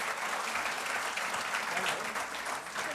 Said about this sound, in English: big round of applause to Planis again